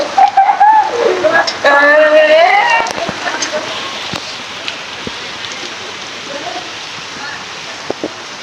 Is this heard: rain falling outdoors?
yes